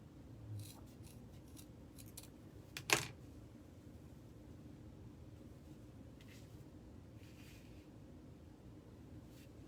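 Scissors make a single quick, crisp snip through ribbon for a deco mesh Christmas wreath, close by and brief, standing out against a quiet room with a few faint rustles.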